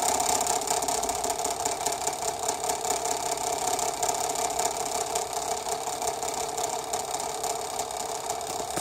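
A giant spinning top whirs steadily, a continuous even hum with a faint rattle that holds at a constant level throughout.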